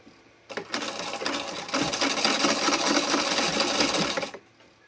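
A sewing machine backstitches across tea towel fabric with a fast, even mechanical stitching whir. It starts with a few short bursts, then runs continuously for about three seconds before stopping, close and clear, with no talk.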